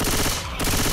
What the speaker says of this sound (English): You stop shooting me!